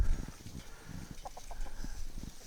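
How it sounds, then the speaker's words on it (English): Faint Blue Laced Red Wyandotte chickens cluck softly in short bursts against a quiet outdoor background. "these are our blue lace red Wyandottes, and they're Tina's buddies"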